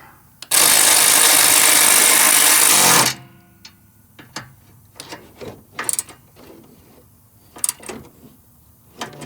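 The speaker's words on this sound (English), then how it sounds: "Now I'm tightening the support bar." Power ratchet or impact tool tightening the AC support bar on a 2007 Toyota Camry Hybrid, a loud continuous mechanical whirring burst of about two and a half seconds, followed by scattered light clicks and clanks of metal parts.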